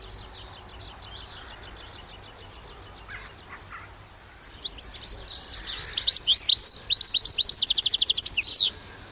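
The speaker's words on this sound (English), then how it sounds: "As they fly about in search of seeds, goldfinch charms often keep up an almost constant twitter." A flock of goldfinches twittering outdoors, with sparse high chirps early, then a dense burst of rapid, liquid tinkling calls that grows louder and nearer in the second half.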